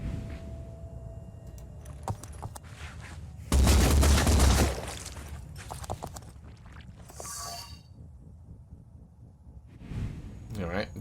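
Weapon fire in the tactical game Phoenix Point erupts in one loud, roughly second-long burst, surrounded by softer interface clicks and a voice talking.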